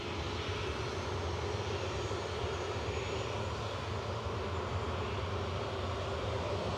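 A Ryanair jet airliner departs Manchester Airport for Verona, its engines a steady, broad roar heard from a distance at an even level throughout.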